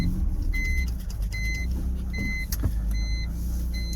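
A BMW E46 wagon fitted for a GTR build sits idling after starting up, a steady low engine drone filling the low end while a few high electronic tones chirp intermittently over the top.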